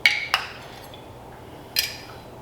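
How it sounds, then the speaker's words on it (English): A spoon clinks against a bowl while diced jalapeños are scooped into venison summer sausage mix, with two sharp taps close together, then quiet shuffling and another clink about a second and a half later. "Give about 3 or 4 good spoonfuls in there."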